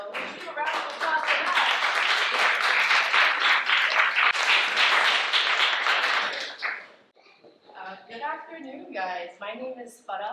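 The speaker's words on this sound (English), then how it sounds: "So let's give a round of applause for that." Crowd at an African Liberation Day rally in Oakland claps and cheers loudly for several seconds, then the applause drops away and someone speaks.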